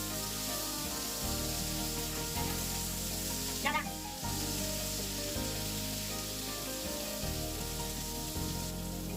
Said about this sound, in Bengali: ইলিশ মাছগুলো হালকা করে ভেজে নিব।